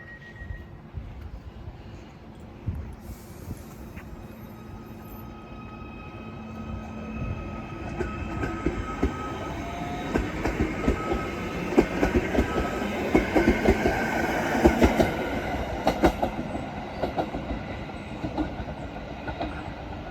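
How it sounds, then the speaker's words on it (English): A train pulling into a station, rumbling faintly at first and then growing louder and nearer with clattering wheels and rattling carriages, with no talk over it. "Our next train."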